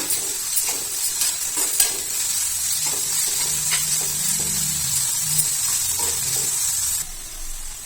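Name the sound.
green chillies and curry leaves sautéing in oil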